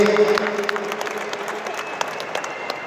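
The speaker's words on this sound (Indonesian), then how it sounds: "ya tepuk tangan buat FKPPI" Guests at a Betawi organisation's inauguration ceremony applaud FKPPI members, scattered claps rising over a sustained tone and background hubbub, moderately loud and somewhat distant.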